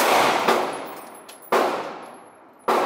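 Three sharp shots ring out about a second apart from a suppressed gun. Each is a loud, close report that fades slowly before the next one.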